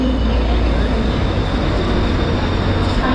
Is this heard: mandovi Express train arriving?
yes